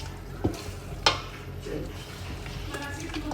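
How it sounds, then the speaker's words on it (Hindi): Spatula scraping and stirring food in a frying pan on a home stove while preparing pulao, with a couple of sharp clinks against the pan over a soft continuous sizzle, close and moderately quiet. "अब इसकी थोड़ी सी बुनाई करूँगी"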